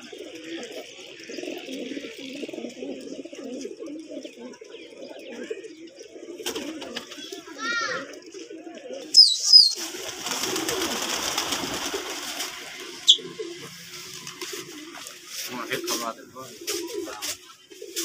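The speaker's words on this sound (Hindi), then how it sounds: "बहुत ही खूबसूरत कबूतर हैं" Pigeons cooing in the town of Kot Addu, belonging to a pigeon keeper's flock, a low repeated coo running through most of the stretch amid other bird chirps and some background noise.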